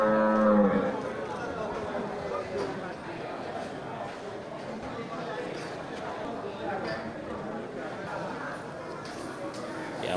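Large local cattle mooing repeatedly amid a busy, noisy livestock market pen in Indonesia, with people talking in the background and occasional hoof shuffling.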